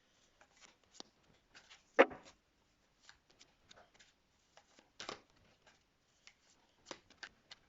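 Tarot cards are shuffled and handled close by, giving soft, scattered flicks and slides. One sharper snap stands out in an otherwise quiet stretch.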